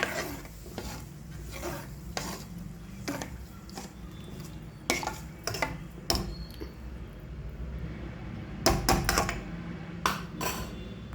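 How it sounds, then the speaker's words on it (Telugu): A spoon stirs fenugreek seeds in a pan, giving intermittent metallic scrapes and clinks against the pan, with a brief cluster of louder knocks near the end. "ఒక స్పూన్ తీసుకుని తిప్పుదాం"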